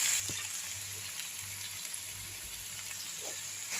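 Beans and onion frying in a pan for a beans and egg stir-fry, a steady soft sizzle with a faint watery hiss running continuously without pause.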